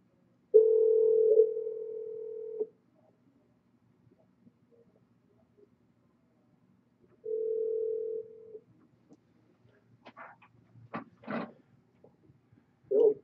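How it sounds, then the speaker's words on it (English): Two separate telephone tones sound, one long and one shorter, with quiet gaps between, followed by a few brief clicks and a short tone at the end. "as we hear the ringing and the dial tone and all that great stuff"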